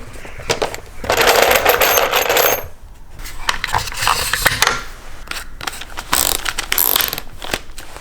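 Wooden wheel crib built from gate post offcuts being screwed together with a power driver, bursts of whirring and ratcheting clicks with clattering handling of timber, loud and close, no talking.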